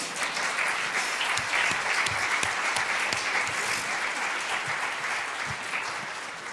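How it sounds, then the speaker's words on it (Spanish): A crowd applauds steadily at the thirtieth-anniversary ceremony of Ceapat, with dense, even clapping that holds at full strength for several seconds and tapers only slightly near the end. "sí, sí, podéis aplaudir"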